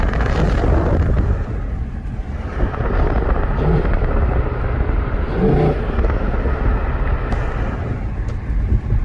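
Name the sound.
Infiniti M45 VK45DE engine intake while driving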